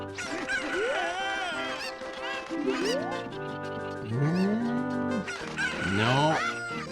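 Cucco chickens in The Legend of Zelda: Ocarina of Time cluck and squawk loudly and continuously, overlapping game-style calls with rising and falling pitches, close up and with no talk.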